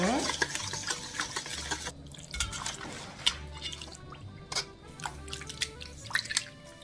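Raw oysters being swished and rinsed by hand in a bowl of salted water, with soft close sloshing, trickling drips and small splashes coming in irregular bursts.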